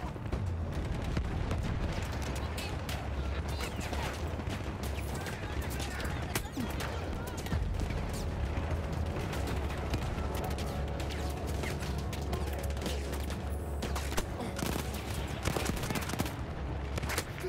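Battlefield 1 gunfire, a near-constant stream of rapid automatic shots, blasts and distant explosions in heavy combat, loud and unbroken throughout with a player's voice talking over it at times.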